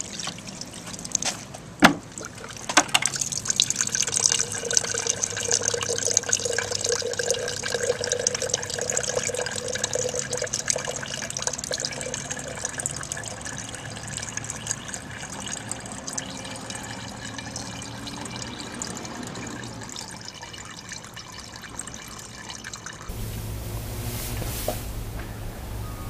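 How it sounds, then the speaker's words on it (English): Oily water poured through X Tex oil-absorbent fabric, a steady trickling stream running for about twenty seconds, close and moderately loud, then tapering off near the end with no talking. "I'm going to go ahead and pour some of this oily water into the X Tex"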